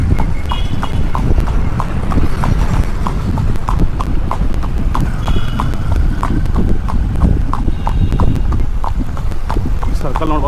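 A horse being ridden at an easy pace in Davanagere, Karnataka, its hooves clip-clopping in a steady, even rhythm for the whole stretch, close and clear over a busy outdoor background.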